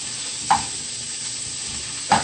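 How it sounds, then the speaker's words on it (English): Rice with shrimp frying in a pan for shrimp fried rice, a steady close sizzle with two sharp scraping stirs of the spatula, one near the start and one near the end, and no talking. "And now we gonna put the rice in the pan."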